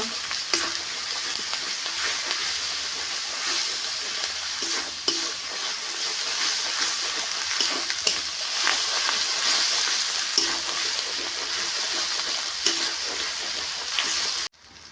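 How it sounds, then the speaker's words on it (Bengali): Steady loud sizzling of spices with salt and turmeric frying in a pan, with occasional scraping stirs, continuous throughout and cutting off abruptly at the end. "মশলা ভাজা হয়ে গেছে"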